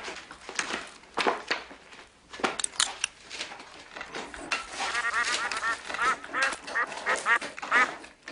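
Severed zombie duck heads in a film quack and honk repeatedly, rapid nasal calls coming in loud uneven bursts close by, with no talk over them.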